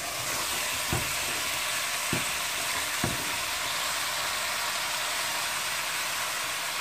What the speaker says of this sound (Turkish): Şimdi salçamı kavurdum. Pırasamı koyacağım.